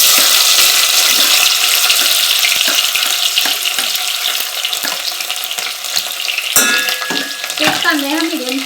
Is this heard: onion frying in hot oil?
yes